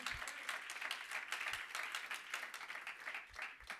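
Congregation clapping along during a church sermon, a steady broadband patter of many hands with a few louder low thumps, moderately distant and continuous throughout.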